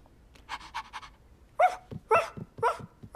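A pet dog pants in quick rhythmic bursts, then gives several short yips and whimpery barks up close, with no talking.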